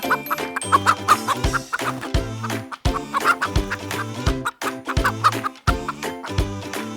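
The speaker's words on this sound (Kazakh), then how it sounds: "Тауық ко-ко-ко дейді." A hen clucks repeatedly in short, rhythmic bursts over a bouncy melody, the animal sound prominent and steady throughout.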